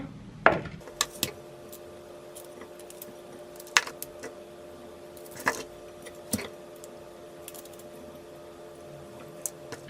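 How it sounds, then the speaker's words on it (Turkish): Sharp, sparse knife chops knock on a cutting board as broccoli is cut into small pieces, a handful of separate cuts spaced irregularly in a quiet room. "brokolileri şöyle küçük küçük doğradım"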